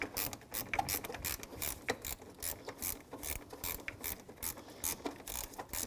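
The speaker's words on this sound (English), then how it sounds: "7 millimeter socket, loosen this clamp up" A ratchet with a 7 mm socket loosens the air dam hose clamp on a 2001-2007 Volvo V70, giving a fast run of sharp, close pawl clicks in quick bursts with brief pauses.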